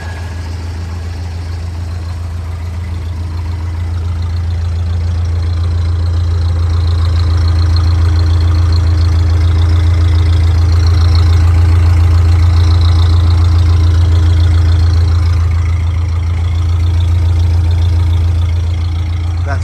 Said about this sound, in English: as the car warms up, you kind of play with the throttle and the spark advance a little bit to bring down the idle